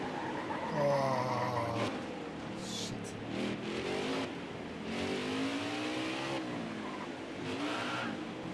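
A high-horsepower stock car revving in NASCAR Heat 4 on the Mid-Ohio road course, the engine note rising and falling in smooth sweeping pitch changes as the throttle is fed in gently, fairly loud and continuous with no talk.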